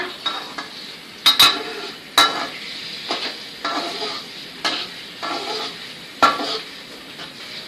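Garlic frying in a pan for a stir-fried squid with basil dish, a steady sizzle broken by repeated sharp scrapes and clinks of a utensil stirring against the pan, close up with no talk.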